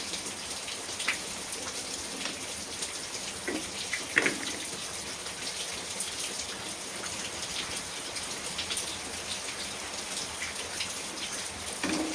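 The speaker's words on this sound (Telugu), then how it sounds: "ఒకటే ముసురు పొద్దున్న నుంచి పడతనే ఉంది మా వైపు వర్షం" Steady drizzle of rain falling under an overcast sky, a continuous soft hiss of drops on surfaces with a few louder splashes, constant and unbroken throughout with no talk.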